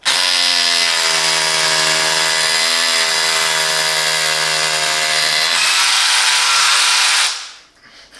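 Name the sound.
Parkside cordless hammer drill hammer drilling brick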